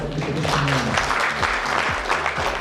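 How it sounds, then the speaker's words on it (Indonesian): An audience at a meeting for doctors claps warmly and steadily throughout, a dense, continuous round of applause with a voice faintly present underneath. "Mari kita berikan aplaus yang hangat untuk itu semua."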